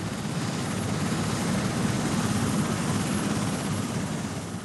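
A helicopter carrying a slung magnetometer on a magnetic-field survey flight gives a steady, loud rotor and engine drone that fills the whole stretch without pause, with no voices.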